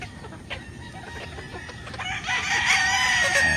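Free-range chickens cluck nearby at a farm during feeding time, and then a rooster crows loudly, with more clucking and hen calls around it.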